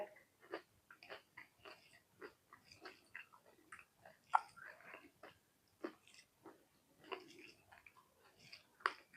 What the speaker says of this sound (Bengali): মাছ ভাজি খাইতে মজা লাগে, দেশি পুঁটি মাছ তো।